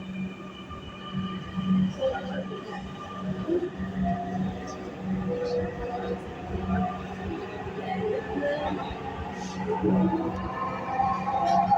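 A metro train runs between stations on the line toward Motijhil, its steady low rumble and hum continuous throughout, with faint wheel squeals and scattered background noises layered above.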